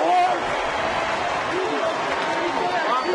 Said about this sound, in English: Oh, that gets the crowd on its feet right here.